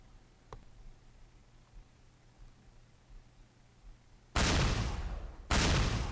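Explosion sound effect from a Windows Phone game, two loud bursts of harsh noise after several seconds of near silence, the first lasting about a second and the second following straight after, no talking.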